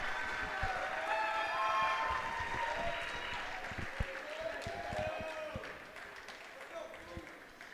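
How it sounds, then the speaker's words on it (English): Crowd applause at a high school basketball senior night in a gym, mostly muffled under a loud announcer's voice and warbling tones, with scattered claps and thuds, moderately distant. "Let's all give a big round of applause for these amazing seniors."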